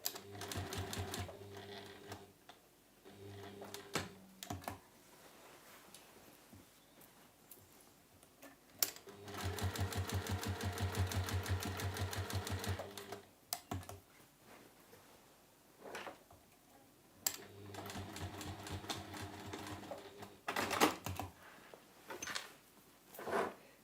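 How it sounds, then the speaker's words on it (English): A sewing machine stitches a tag onto a tote bag in quick, buzzing bursts of rapid needle clatter, broken by pauses and soft handling knocks as the fabric is shifted. "So that's sewn that tag in."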